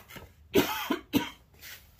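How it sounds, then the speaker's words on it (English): A person coughs close by, three or four harsh, raspy bursts in a row, the middle ones loudest. "Cough, hack, hack."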